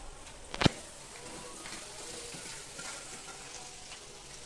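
Chicken pieces fry in oil in a pan while a Telugu-style chicken pachada is cooked, giving a soft, steady sizzle with one sharp clack near the start, heard alone with no talk.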